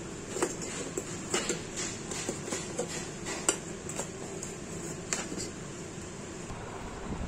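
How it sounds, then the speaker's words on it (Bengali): Powders are tipped into a small container and its lid is pressed shut, giving scattered light clinks, taps and scrapes close by over a steady fan-like hum. "তো কৌটোর মধ্যে পাউডারগুলো ঢুকিয়ে দেখো চাপা দিয়ে দিচ্ছি।"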